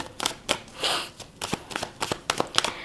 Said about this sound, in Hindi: Let's pull out 5 cards for you.